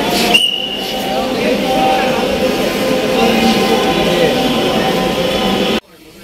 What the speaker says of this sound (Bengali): অলরেডি আমি উঠে গেছি মেট্রো রেলে।